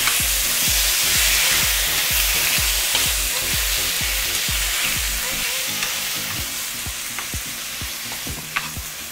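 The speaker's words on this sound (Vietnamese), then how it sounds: "cái phần thịt ba rọi á mình mua về mình đã sắc nhỏ rồi. Thì khi mà chảo nóng thì mình cho" Sliced pork belly sizzles loudly and steadily in a hot frying pan, with a dense crackling hiss over rhythmic scraping or stirring strokes throughout, no voices.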